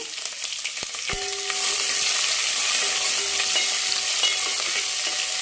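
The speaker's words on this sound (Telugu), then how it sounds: "ఉల్లిపాయలు బాగా వేగాలి, పచ్చిగా లేకుండా బాగా వేగితే బాగుంటుంది" Onions fry in oil after a mustard seed and cumin tempering, producing a steady crackling sizzle close up, with a couple of sharp clinks of a utensil against the pan early on and a faint tonal ring lingering beneath.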